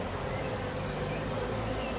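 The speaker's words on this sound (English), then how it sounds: "So there are bees on there putting a small amount of nectar inside the comb." Honey bees hum in a dense, continuous buzz close by while working over hive comb during an inspection.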